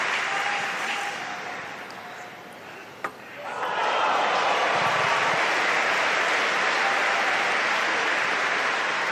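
Spectators at a world table tennis championship match fill an arena with sustained, loud applause that swells after a sharp ball hit and keeps going as a dense, steady roar, with faint commentary underneath.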